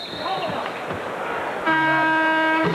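A referee's whistle sounds in a 1992 Denver Nuggets NBA basketball game, a sustained shrill blast rising over arena crowd noise and squeaking sneakers after a stretch of court action.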